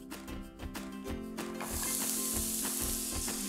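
Finely chopped onions fry in hot vegetable or sunflower oil in a pan, stirred with scraping strokes before a steady, loud sizzle takes over, close up with no voices.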